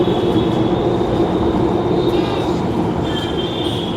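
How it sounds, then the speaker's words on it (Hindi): A metro train rolls past nearby with a steady loud rumble and rail hiss, a faint high whine riding on top throughout. "मेट्रो जा रही थी"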